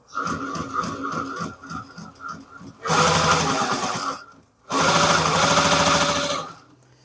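A Consew 202R industrial sewing machine fitted with a new motor runs in two loud, steady bursts at top speed, its needle mechanism chattering rapidly, with quieter mechanical ticking between them.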